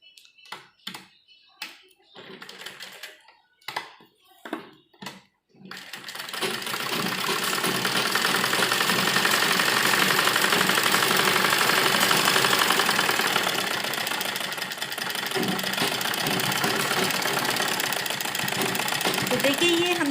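A sewing machine runs steadily, stitching a straight seam on a Naira-style frock bodice, close and continuous after a few short bursts of talk at the start.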